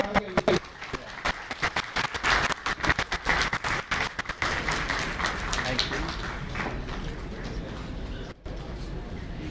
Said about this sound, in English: A big round of applause for the awardees of Chanakya, the second runners-up team, Shriram Pistons